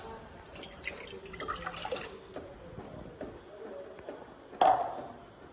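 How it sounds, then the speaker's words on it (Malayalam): Tender coconut water poured into a bowl, a steady low trickle and splash running for several seconds before a brief louder splash near the end, close by with no talking. "അപ്പൊ ഇത് നമുക്ക് ഈ പാത്രത്തിലേക്ക് ഒന്ന് ഒഴിച്ചു കൊടുക്കാം."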